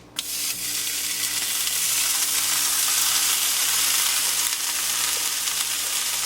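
Canadian bacon sizzles steadily in a hot frying pan, a loud continuous crackling hiss after a brief clunk as it lands.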